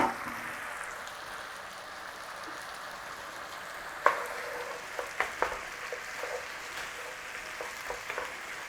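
A beef and bell pepper stir fry sizzles softly in a pan while sauce is stirred through, a low steady frying hiss broken by several sharp utensil clicks and taps, close and without talk.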